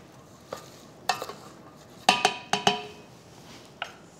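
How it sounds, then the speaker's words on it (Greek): A spoon scrapes and clacks against a pot as celeriac is stirred with wine for beef ossobuco, with several distinct knocks in short bursts and a quiet background between them. "Ανακατεύουμε μέχρι η σελινόριζα να μαραθεί τελείως."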